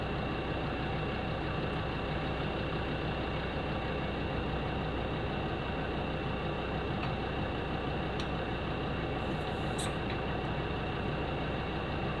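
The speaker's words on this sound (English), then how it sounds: "see how long it takes to inflate this tyre from an off-road pressure back to an on-road pressure" A Viair 400C 12-volt compressor fitted to a Defender 110 pumps a tyre up from about 15 psi, a steady, unbroken mechanical drone with a faint rattle that holds at the same level throughout.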